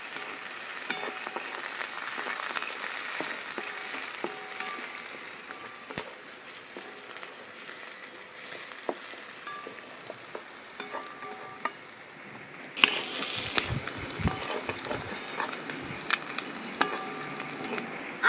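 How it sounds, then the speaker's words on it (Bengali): Chopped onions fry in hot oil in a steady, close crackling sizzle, with occasional scrapes and clinks of a utensil against the pan; a brief louder burst of sizzle comes late. "দিয়ে দিচ্ছি পেঁয়াজ কুচি, পেঁয়াজটা একটু লাল করে ভেজে নেব।"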